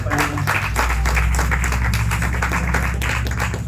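Church congregation clapping together during a Sunday service, a dense, steady wash of many hands sustained throughout, with faint low musical tones beneath.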